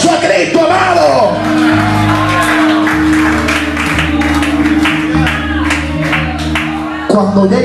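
A church congregation claps and shouts loudly, cheers and whoops rising over sustained organ-like chords, with a voice calling out at the start.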